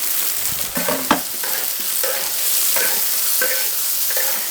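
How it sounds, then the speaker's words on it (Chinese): Bamboo shoots are stir-fried with garlic, ginger and chili in a rural home kitchen, giving a steady close sizzle broken by periodic scraping and tossing strokes of a spatula. "再把笋放下去炒。"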